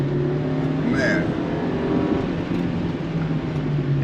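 A Honda Civic EG on fresh wheels and tires drives along a twisty road, its engine a steady loud drone with road roar, the tone holding fairly even throughout.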